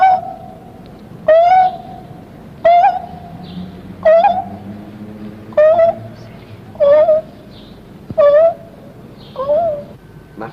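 A person imitates a dove's coo, repeating a soft, rising hooting call about eight times at a steady pace with brief pauses between.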